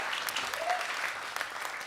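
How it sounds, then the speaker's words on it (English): Brief applause from an audience honouring finalists and their supporters at an awards event, a soft, even patter of clapping. "An applause is very fitting."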